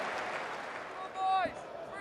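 Cricket crowd at an England v New Zealand Test match applauding a maiden Test century, a steady broad wash of clapping that swells briefly near the end, with commentary talk over it.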